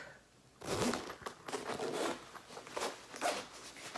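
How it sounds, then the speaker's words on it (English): The double zipper on the main compartment of an IKEA Forenkla backpack is pulled open in several quick, rasping strokes, close and crisp with brief pauses between pulls. "It's got a double zip."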